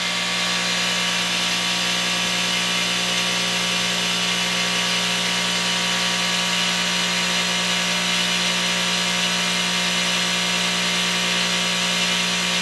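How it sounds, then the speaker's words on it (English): A bench grinder runs steadily while sharpening the carbide tip of a boring bar insert for precision bushings, giving a continuous loud whirring grind with a steady hum throughout, with no voices. "I'll just pull the bit out, get the grinder going"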